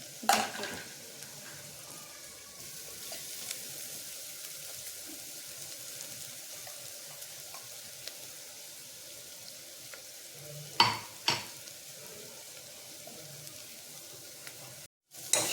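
Ground masala paste sizzling in a pan with sautéed onion, a steady soft frying hiss with a few louder stirring clatters near the end, no voices.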